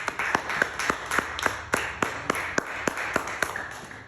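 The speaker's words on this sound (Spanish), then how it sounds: "Dele palmas al Señor" A church congregation claps in a steady rhythm, about a dozen sharp, evenly spaced claps over a few seconds, mid-distance with a reverberant room wash behind them.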